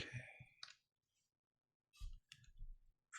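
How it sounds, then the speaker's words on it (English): Computer mouse clicks during a ZBrush digital sculpting session: a few sharp, close clicks in short clusters, quiet, with silent gaps between them. "Forgive my mouse clicks here."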